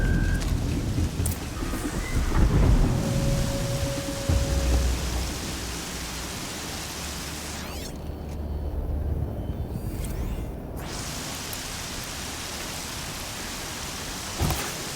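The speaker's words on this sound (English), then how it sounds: "The rain's too loud to hear much." Heavy rain pours steadily in the video game Horizon Zero Dawn, a dense, loud hiss with low rumbling thunder beneath it and no talk over it.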